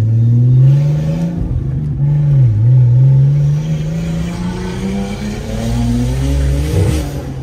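A turbocharged 2.8-litre six-cylinder BMW 328 E46 engine revs loudly and close, its drone rising and falling through several throttle blips with no talking over it.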